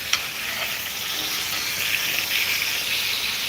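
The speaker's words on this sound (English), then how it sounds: "You hear that sizzle?" Steak frying in a pan makes a loud, continuous sizzle with crackly spatters on top, heard up close and alone without any talking.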